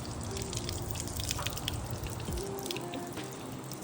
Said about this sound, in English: Take a hose, let it just trickle water out basically.